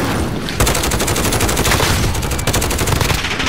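Grau 5.56 assault rifle in Call of Duty: Modern Warfare firing long, rapid automatic bursts, loud and close with a dense, rattling rhythm throughout.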